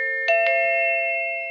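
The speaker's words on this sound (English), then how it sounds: "The awesome thing about this is that it has different chimes." A Hivernou wireless doorbell plug-in receiver plays a ringing electronic chime, two quick struck tones followed by a long sustained ring that slowly fades, close and clear.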